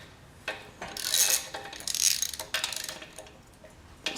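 A ratchet wrench with a 15 mm socket loosens cylinder head bolts on an engine, giving a few bursts of close, bright clicking separated by quieter pauses.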